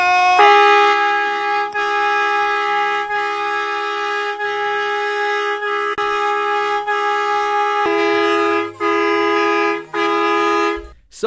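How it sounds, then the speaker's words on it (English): A loud, sustained multi-tone horn blares in long held blasts, pausing briefly and resuming, close and overpowering. "Now, this is him using the train horn."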